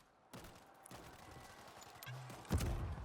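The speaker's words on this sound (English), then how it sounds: "Let's use the mortar." Mortar fire in the World War Z Aftermath video game: a few quiet, sharp blasts with a heavier thump near the end, over a low battle background.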